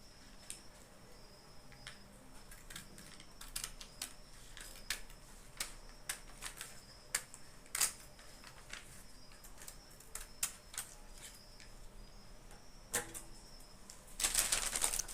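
Scissors snip through fabric while a basic sleeve pattern is cut out, a run of crisp, quiet clicks and snips spread across the whole stretch, ending in a brief louder rustle of handled cloth.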